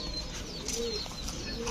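Sirazi pigeons coo softly at close range in a loft, low murmuring calls repeating over a steady background hum with faint rustling.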